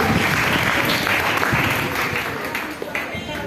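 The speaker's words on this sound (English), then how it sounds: "give the students a round of applause" A graduation audience at a secondary school claps for students, sustained loud applause from a large crowd filling the hall, fading slightly toward the end, with voices mixed in.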